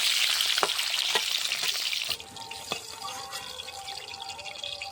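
Eggs seasoned with salt and turmeric fry in hot oil in a pan, giving a loud, dense sizzle that drops to a softer crackle partway through, with a few sharp taps of a utensil and no voice.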